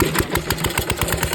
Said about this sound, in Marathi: आज आली आपल्या धुमसाची मशीन